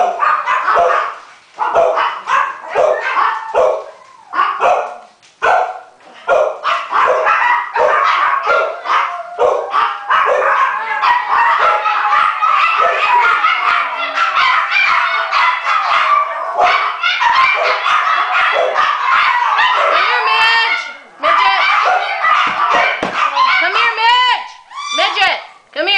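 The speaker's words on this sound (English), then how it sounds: "I have 12 dogs. They're going to bark at some point in time." A pack of twelve dogs barks in repeated sharp bursts with yips and whimpers mixed in, loud and close, keeping up a near-constant clamor with only brief pauses throughout.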